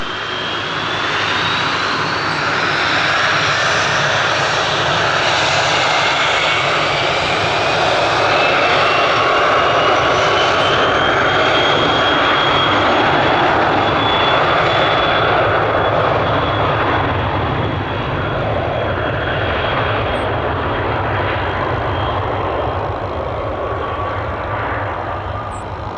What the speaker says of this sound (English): fly runway heading, runway 26 left, clear for takeoff